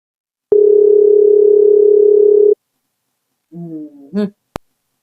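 A phone call tone sounds as one steady, loud, two-second beep, followed by a short burst of electronic chirps and a sharp click.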